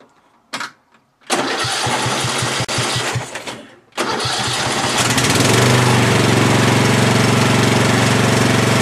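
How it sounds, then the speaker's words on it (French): A ride-on lawn mower tractor's engine cranks in two short bursts with pauses, then catches and settles into a loud, steady idle running close by. "Je vais faire tourner mon moteur pour pouvoir fluidifier l'huile du moteur"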